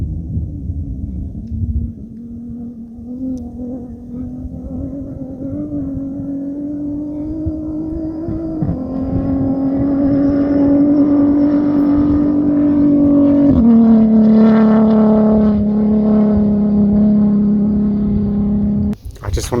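Dakar rally cars roar past on a dusty sand track, their engines loud and close, the pitch climbing and shifting with gear changes as each vehicle passes and fades.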